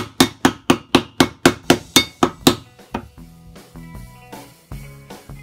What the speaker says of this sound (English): first I'm going to hammer these in so they're nice and straight